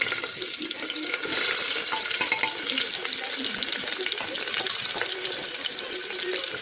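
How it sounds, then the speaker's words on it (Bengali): Chopped onions frying in mustard oil inside a pressure cooker, a steady close bright hiss with light clatters of stirring running throughout. "পেঁয়াজগুলো একটু ভাজা ভাজা করবো"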